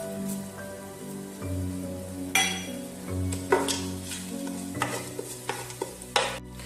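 Cumin, cardamom, cloves and cinnamon sizzle in hot oil with frying onion, a steady close crackle broken by stirring scrapes and a few sharp spoon knocks against the pan, no talking.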